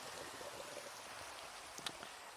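Rain falling at night in the Minecraft video game, a quiet steady patter and hiss with a few brief louder drops, no talking.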